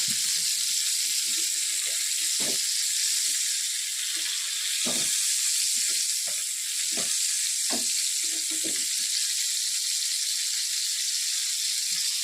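Fish frying in oil gives a loud, continuous crackling sizzle, close by, with occasional soft bumps and pops of oil being spooned over the pieces and no voices.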